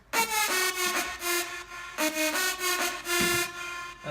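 A bright synth saw lead layered with noise plays in short rhythmic bursts, sidechained and heavily processed with effects in FL Studio, loud and up close with no voices.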